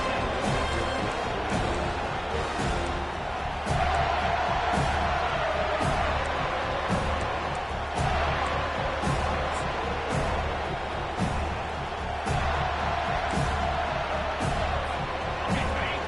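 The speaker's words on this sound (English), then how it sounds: "This crowd knows when to bring it." A stadium crowd in a Madden football video game roars with a steady dense cheer throughout, and louder surges and thumping slams rise and fall within the constant din.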